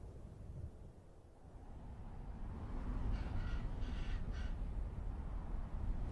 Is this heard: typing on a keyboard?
no